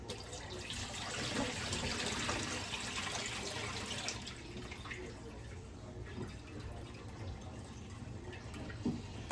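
Water drains and splashes steadily off boiled ground provisions such as turnip, green banana, sweet potato, Irish potato, cocoa and pumpkin, a continuous close pour with a few drips.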